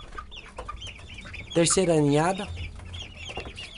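A young Japanese silkie rooster crows once, a short rising crow that breaks into clucking, close by, with someone talking softly before and after it.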